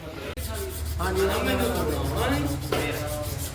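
A mechanic rubs down a John Deere 5310 tractor's water body, a close, steady abrasive scraping that runs continuously under a voice talking.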